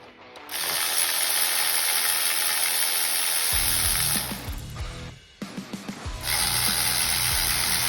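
Hand ratchet clicking steadily as head bolts are run off a Powerstroke 6.0 diesel engine, a loud, close metallic pawl chatter in continuous bursts with a brief pause partway through.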